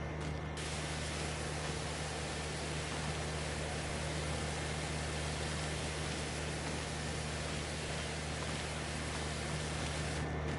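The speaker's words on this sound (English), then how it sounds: "we'll do a spray down" A pressure washer sprays down farm equipment in Farming Simulator 25, a loud, even hiss of water spray that runs unbroken throughout.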